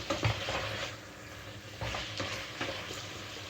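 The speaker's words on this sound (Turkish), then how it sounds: "3-4 dakika kadar kavuracağım." Meat sautéing in a pan for Turkish tas kebabı, a steady sizzle with faint scraping stir strokes now and then, close and moderately quiet, no talk.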